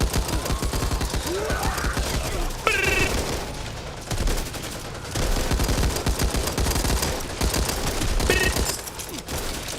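Rapid gunfire bursts from the zombie co-op shooter Back 4 Blood, sustained and loud throughout with layered game effects and music underneath.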